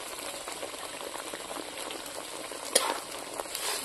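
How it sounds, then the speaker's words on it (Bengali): Spices with salt and turmeric frying in a pan for a village-style potato curry, an even bubbling sizzle with stirring scrapes and a sharp clink near the end. "এখন আমি এই মশলাটা ভালো করে ভেজে নেব।"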